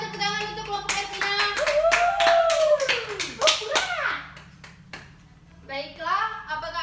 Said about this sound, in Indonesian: Silakan tepuk tangan untuk kelompok Herpina.